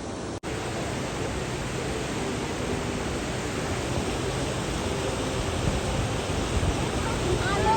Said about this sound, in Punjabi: ਸਕੂਨ ਨਾਲ ਪਾਣੀ ਦੀ ਆਵਾਜ਼ ਕੰਨਾਂ ਤੇ ਜਾਂਦੀ ਰਹਿੰਦੀ ਹਲਕੀ ਹਲਕੀ